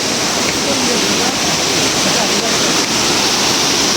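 Burude Falls pouring down, a loud, constant broadband rush of falling water filling the whole clip, close and unbroken.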